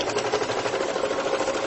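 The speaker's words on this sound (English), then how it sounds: "it sews right through there, and I'll go ahead and sew back the other way" A Singer 4423 semi-industrial sewing machine stitches through a wooden yardstick with a fast, steady mechanical chatter, close and even, with no talk.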